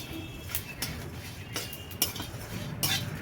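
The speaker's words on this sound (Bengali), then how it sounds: "কড়াইতে নেড়ে" Red chillies, cumin, panch phoron and coriander dry-roasting in a kadai as a spoon stirs them. Sharp metal clinks land every half second or so over a steady low rustle, close and moderately loud.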